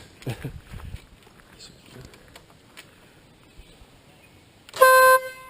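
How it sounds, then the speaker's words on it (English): A loud, brassy Stebel air horn on a BMW F800GS motorcycle blasts once, near and sustained for about half a second, following faint background voices and rustling. "That's the Stebble air horn."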